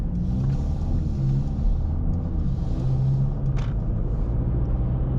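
A Mercedes A35 AMG idling and pulling away gently, a steady low engine rumble close by with mild rises in tone as it begins to move, no talk.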